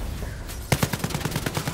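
Gunfire in the video game Blood & Truth bursts in after a quiet start, a rapid run of loud, evenly spaced shots close up that keeps going to the end.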